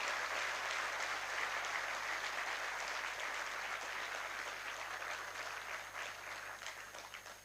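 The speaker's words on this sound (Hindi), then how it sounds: "जोरदार ताली बजा करके हम इनका धन्यवाद करें" Sustained applause from an audience thanking India's home minister at a community service event in Hisar, Haryana; dense, steady clapping throughout that slowly thins toward the end, with no talking.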